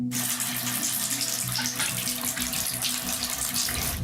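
Water runs steadily from a tap in an apartment building with rotten pipes, a continuous close hiss and splash that stays loud and unbroken throughout, with no talking.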